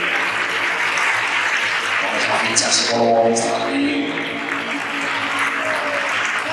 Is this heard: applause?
yes